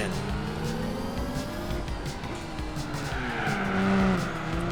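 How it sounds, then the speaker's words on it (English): A Nissan Skyline in a Gran Turismo 4 rally event slides with screeching tires over a steady engine drone, a brief louder burst near the end as it goes into a wall. "you forget to brake, and you start sliding a little bit, and then you lose it head on into that wall"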